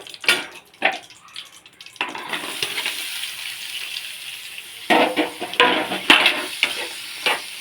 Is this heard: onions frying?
yes